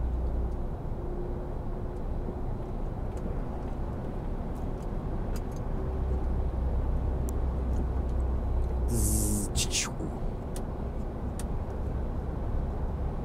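A car cruising on a road in Slovakia, speeding up past 90 km/h, gives a steady low engine and road drone that holds throughout, with a brief hissing burst partway through and no talk.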